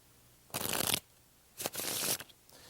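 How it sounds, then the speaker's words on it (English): A deck of playing cards cascades in a waterfall shuffle after an in-the-hands riffle, two bright fluttering bursts of about half a second each, close and crisp with no voices. "This is called the waterfall shuffle and happens immediately after an in-the-hands riffle shuffle"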